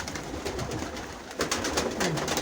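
Pigeons coo steadily in a loft where they are kept with mineral supplements and pellet feed. The soft, low cooing runs the whole time, with several birds overlapping at a moderate distance and no one speaking.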